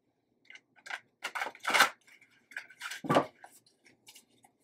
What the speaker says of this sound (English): Bit of a larger size deck, so it's not very easy to shuffle